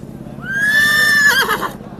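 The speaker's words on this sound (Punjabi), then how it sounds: "ਵੇਖੋ ਬਈ ਨੁਗਰਾ ਘੋੜਾ" A horse whinnies loudly and close by at a horse fair in Sri Muktsar Sahib, Punjab, one long high neigh that wavers and breaks off near the end.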